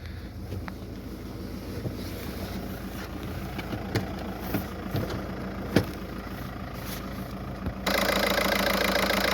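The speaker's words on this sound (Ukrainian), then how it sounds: "так, працює двигун." A 2008 Volkswagen Golf 5's 1.9-litre turbodiesel engine idles steadily with a low, even rumble and a few sharp clicks, growing slightly louder and rougher near the end.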